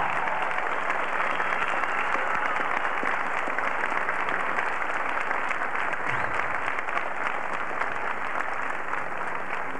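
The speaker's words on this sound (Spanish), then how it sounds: "recibe este aplauso" Sustained audience applause at a Christian celebration event, dense continuous clapping from a large crowd lasting the whole stretch with no pause.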